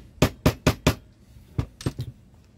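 A nail tapped with a hammer into metal to make a small divot for drilling: four sharp, evenly spaced strikes, then a pause and three or four lighter taps, close and clear with no talking.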